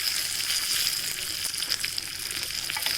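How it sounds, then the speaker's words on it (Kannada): Four to five Byadgi red chillies frying in hot oil, a steady dense sizzle that holds close and even throughout, with no voices. "ಈಗ ನಾನು ಮೆಣಸು ಹಾಕ್ತಾ ಇದ್ದೇನೆ. ಮೆಣಸು ಒಂದು 4 ರಿಂದ 5 ಬ್ಯಾಡಗಿ ಮೆಣಸು ಸಾಕು."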